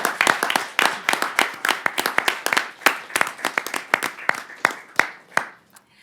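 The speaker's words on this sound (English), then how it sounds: "Give a big round of applause to our student debaters." An audience at a high school debate semifinal applauds the student debaters: a run of distinct, scattered claps from a modest crowd, fairly close, thinning and fading out near the end.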